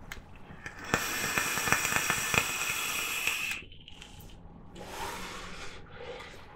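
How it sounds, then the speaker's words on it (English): Close, rapid crackling and clicks from an MK RTA rebuildable tank atomizer by Acevape as liquid wicks to the coil during a draw, a busy pop-filled burst of about three seconds followed by softer airy hiss. "you can just hear like the crackling, but that's like the wicking going to the core"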